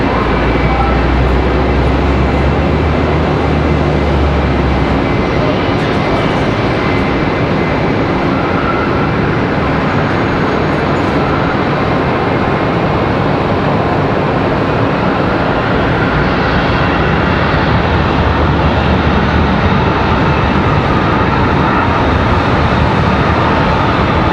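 A departing airliner at Charlotte Douglas airport gives a loud, steady jet roar that fills the whole stretch without letup, heard close and alone with no voices over it.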